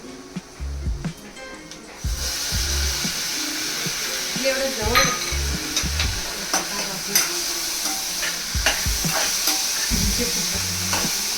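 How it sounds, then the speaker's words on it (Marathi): Tomatoes hit browned onions in a hot pan for prawn masala, bringing a surge of loud, steady sizzling with spatula scrapes and stirring knocks, close up and continuous. "कांदा ब्राऊन झालाय, आपण टोमॅटो टाकूया."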